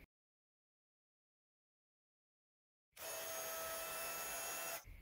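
A heat tool melts silver embossing powder on a happy birthday stamp pressed onto black cardstock, switching on after near silence as a loud, steady whirring blast of air that runs for about two seconds before cutting off.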